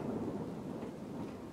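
Steady rain and rumbling thunder in the SCUM survival video game, a dense, continuous low roar of downpour with a deep thunder rumble underneath, no voices.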